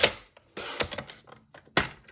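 A 7/8 inch strip of paper is cut for a box: a few sharp, separate clunks and snips at close range, with quiet gaps between them.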